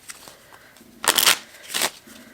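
A deck of playing cards is shuffled close by. There are two quick riffling bursts after a soft handling rustle, with no voices.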